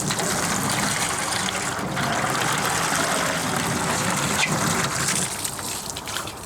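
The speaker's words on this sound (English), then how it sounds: "Let's go ahead and add some distilled water." Distilled water pours steadily into the cooling system of a Lexus GX460 during a radiator flush, a close, continuous gushing rush that holds nearly constant and eases slightly at the end, with no talking.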